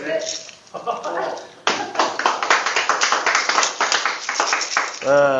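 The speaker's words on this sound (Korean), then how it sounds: "이게 박수가 나와야 좋죠" A lecture-concert audience claps after a magic trick, a brief pause followed by a sudden, lively burst of dense clapping, with a voice speaking through it.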